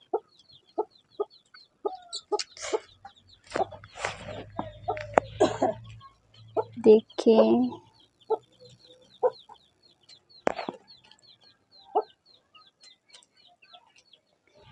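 Village hen with her chicks, giving short sharp clucks at a steady pace and a few longer, louder calls. Thin chick peeps sound in the background, and someone talks briefly.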